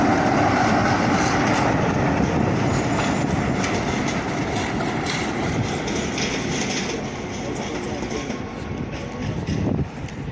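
Trains at Crewe station, including The Duchess of Sutherland, rumble past with continuous wheel noise and clickety-clack over rail joints, a broad steady roar that thins slightly toward the end, with a faint voice now and then.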